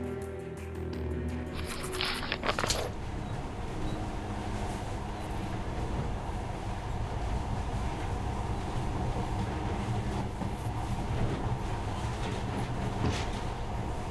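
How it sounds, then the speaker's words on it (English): Monorail train running in Metro Last Light Redux: a steady, low mechanical rumble of the moving train that holds throughout, with a brief high clattering burst near the start. "In the past, trains were ordinary things. But now, this monorail seems magic, doesn't it?"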